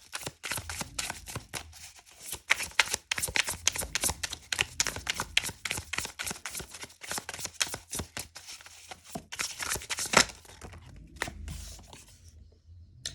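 Tarot cards riffle and snap in a quick, uneven flurry of close papery flicks and slaps for about ten seconds, then a softer draw and settling of a card.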